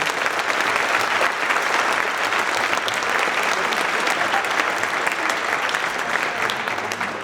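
Sustained, loud audience applause for the community at the Mr. East Valley 2023 event, a dense crowd clapping steadily throughout with no break.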